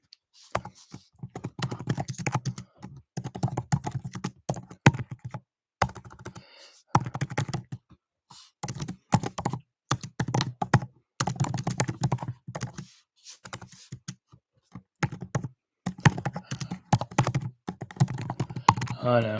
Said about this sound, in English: I'm just typing in a commercial here real quick, Steve.